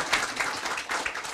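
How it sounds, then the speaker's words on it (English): An audience at a memorial applauds, a dense patter of many hands clapping together at moderate volume for a short stretch, with no talk. "Give her a big round of applause."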